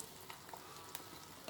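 Mung beans being stirred in a cooking pot, a soft sizzle with a few scraping clicks from the spoon, fairly quiet and steady with no talking.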